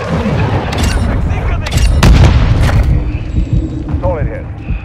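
An AC-130 fire mission strike in Call of Duty Modern Warfare II slams down as a rapid series of heavy, close explosions and cannon booms, rumbling deep before fading into debris and softer tones, with radio-style voices murmuring underneath.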